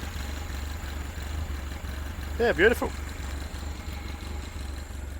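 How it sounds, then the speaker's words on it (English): A Ford 100E Anglia classic car idles with a low, steady, even rumble nearby, while someone briefly speaks over it. "See the engine's running."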